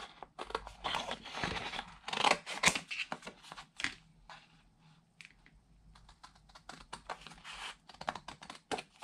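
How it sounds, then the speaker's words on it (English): Scissors cut through card along traced lines in short, close, crisp snips coming in irregular bursts, quieter at times, with no voice over them. "I'm going to come inside of my trace marks and just cut."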